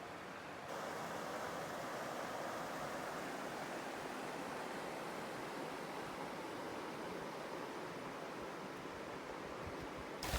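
Creek rapids on a Temagami canoe trip rush in a steady, dense roar of white water, loud and unbroken for the whole stretch with no voices.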